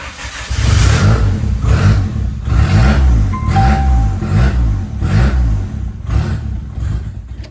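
Turbocharged Honda Del Sol engine cranking over and catching, then revved in a series of loud, rising and falling surges that never settle into a steady idle.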